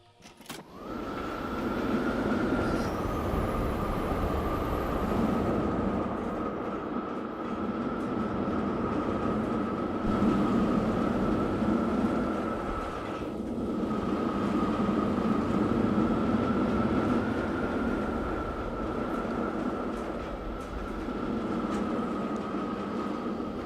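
A roller coaster train in the video game Planet Coaster 2 rides along its track, a steady continuous rumble with a constant whining tone and gentle swells in intensity, running uninterrupted for over twenty seconds.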